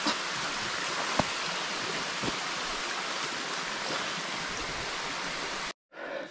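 Water from a stream spilling over rocks into a small forest waterfall, a steady full rushing wash running unbroken and fairly close, then cutting out abruptly near the end before a brief return.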